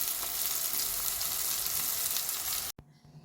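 Pomfret fish sizzles and fries in hot oil with a few rice grains, a steady loud crackle that runs without a break and then cuts off abruptly near the end, leaving a quiet low hum.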